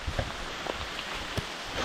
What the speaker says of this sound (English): Well, it's raining now, which is delightful,